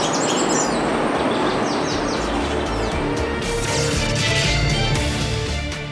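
Birds chirp and sing in Medellín, Colombia, their thin calls layered over a loud, steady wash of outdoor background noise that continues throughout.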